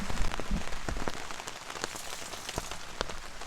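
Torrential rain pours down on a campsite during a lightning storm, a dense, loud, continuous hiss of heavy drops pattering on surfaces nearby, with no voices.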